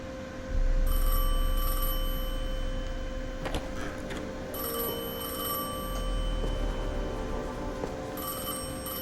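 A telephone rings inside the Destiny 2 video game, a clear electronic bell trill that comes in repeated bursts with pauses between them, set over a steady low ambient hum, with no talk.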